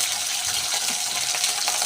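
Raw peanuts pour into a hot pan for palli chutney, a dense rattling patter of nuts tumbling in, close and fairly loud for a couple of seconds.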